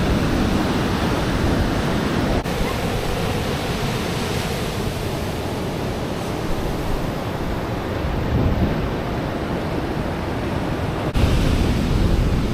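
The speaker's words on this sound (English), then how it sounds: "the surf is just too strong" Strong surf at a beach in Hoi An, Vietnam roars as a steady broadband wash, heavy breaking waves blended with wind buffeting the microphone, loud and continuous with no voices.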